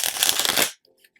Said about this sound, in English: Gonna shuffle that one more time.